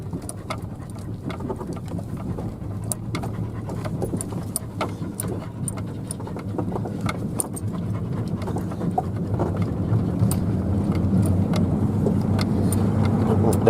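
A car rolls steadily along a rough rural road with a cattle guard and patches of snow nearby, its engine and tyre rumble continuous and close, growing slightly louder toward the end, with faint bird calls scattered over the drive.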